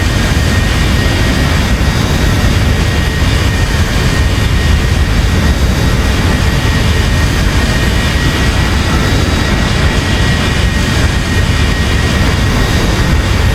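A Zibo Boeing 737-900 airliner in the X-Plane flight simulator gives off a loud, steady jet-engine roar with a broad, constant hum that stays unchanged throughout.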